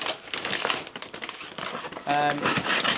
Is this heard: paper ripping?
yes